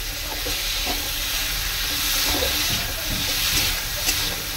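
Cumin seeds sizzle in a hot pan while a utensil stirs and scrapes them, with a few soft clinks over the constant frying hiss.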